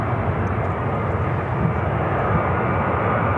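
A fixed-wing airliner lands on runway 10 Center at Chicago O'Hare, its engines a loud, steady, broadband roar that stays close throughout with no talk over it.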